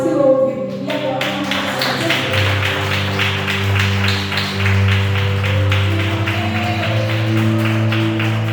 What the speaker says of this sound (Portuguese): As palmas que ouvem